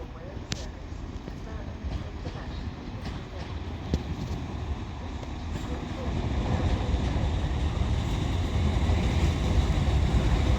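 A West Midlands Railway Class 196 diesel multiple unit pulls into Wolverhampton station on the 1612 Birmingham New Street to Shrewsbury service, a steady low rumble that builds and grows louder over the last few seconds, with platform ambience.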